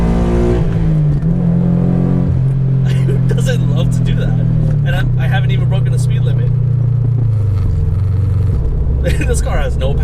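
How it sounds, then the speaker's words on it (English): A Scion FRS/Subaru BRZ/Toyota 86 sports car accelerates hard through the gears, its exhaust droning upward in pitch, dropping at each shift and climbing again, loud and close from inside the car, with someone speaking over it. "I think it's just the exhaust that I like. Just the fact that I can hear the car."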